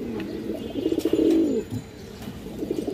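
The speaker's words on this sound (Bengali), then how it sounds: "খুবই হাই কোয়ালিটি, হাই ব্লাড লাইনের এক পেয়ার কবুতর" A pair of high-bloodline pigeons coos in a low, rolling burst that swells and then fades, with softer coos continuing afterward and no talking.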